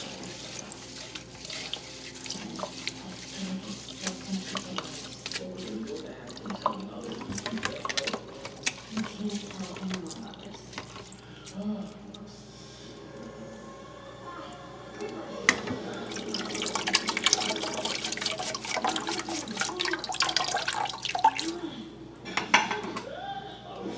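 Rice is rinsed under running tap water in a sink, with the grains swishing and clattering against a pot or bowl, a steady flow of water and intermittent metallic knocks, all up close and getting busier toward the end.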